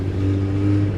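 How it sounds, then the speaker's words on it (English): Brief throttle blip from a carbureted Yamaha R1 motorcycle engine, a steady close mid-pitched engine note lasting about a second with no talk. "like just a little bit of throttle, they go."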